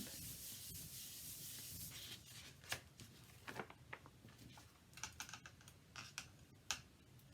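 Folded paper with wet paint is rubbed by hand, a soft continuous papery rustle with scattered small scratches and taps, close and faint.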